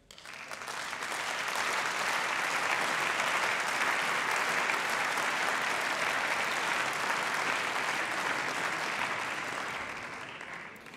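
Sustained applause in a German parliament session, a dense, steady wash of clapping from many hands that builds within the first second, holds evenly for about ten seconds, then eases off, with no speech over it.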